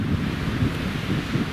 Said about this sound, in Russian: А то тут ветрище.